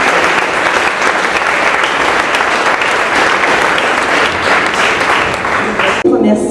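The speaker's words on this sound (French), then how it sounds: "Qu'on puisse les applaudir." Audience at a Saint-Claude excellence night applauding honoured champions, dense sustained clapping filling the room for several seconds before cutting off near the end, with a voice in the background.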